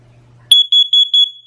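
A First Alert 10-year carbon monoxide detector runs its test alarm: after a brief quiet moment, four loud, piercing electronic beeps sound in a steady rhythm, very close and alone.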